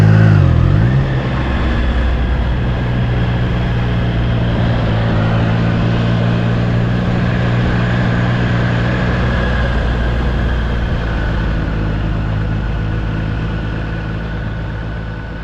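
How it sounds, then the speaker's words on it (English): A Triumph Trident 660 motorcycle on tight mountain roads in Dehradun drones steadily with a low engine hum and wind noise, loud and continuous, easing slightly toward the end. "And let's give it some motorcycle therapy."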